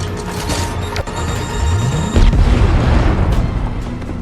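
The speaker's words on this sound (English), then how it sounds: "Seeing robots inside, they threw a grenade to test." A grenade thrown into a tower entrance explodes in a movie scene, a heavy boom landing midway through a dense cinematic mix of tones and rumble that keeps roaring afterward.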